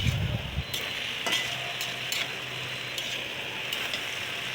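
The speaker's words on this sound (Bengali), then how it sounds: "আমি মিডিয়াম হিটে একটু কষাবো" Taro stolons cooking with a hilsa fish head over medium heat: a steady, even sizzle with a few crisp ticks and short scrapes of stirring, close and continuous with no talk.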